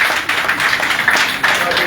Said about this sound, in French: Mais applaudissez pour elle alors